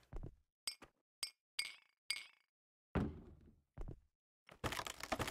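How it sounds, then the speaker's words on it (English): Shards of broken glass clink and knock against each other as they are lifted out during renovation of a damaged model train station, a string of sharp separate taps ending in a longer rattling scrape, close and without talk. "Please don't drop the glass inside."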